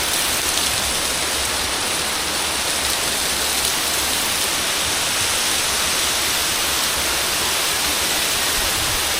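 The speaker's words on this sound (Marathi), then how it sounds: "पाऊस आलाय, जरा खाली जाऊन थांबूया" Light rain falls steadily near the Panwal waterfall amid green surroundings, a dense, even hiss of water close by that holds unbroken throughout with no voices.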